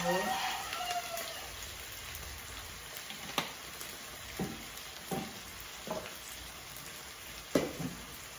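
Dried fish (tuyo) frying in a pan, a steady low sizzle under a voice, broken by several sharp clacks of stirring or placing pieces at irregular intervals.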